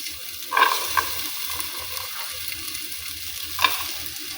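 Onions frying in hot oil in a pan while a meal is cooked: a steady close sizzle with a few sharp clinks and scrapes of stirring.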